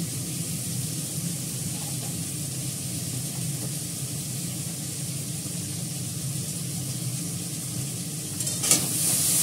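Potatoes frying in a pan on the stove for a fenugreek-leaf dish, giving a steady, soft hiss and sizzle that runs evenly throughout, with a brief scrape or clatter near the end.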